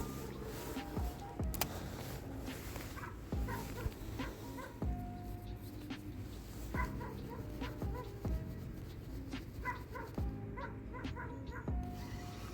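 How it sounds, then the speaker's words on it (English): A dog barks and whimpers intermittently in the distance, faint yips repeating over a low outdoor background. "With the dog barking in the background"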